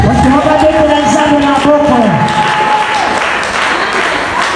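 A church congregation applauding and cheering to acclaim the Lord during a prayer service, a broad wash of clapping and voices that swells and stays loud, with a preacher's voice over it.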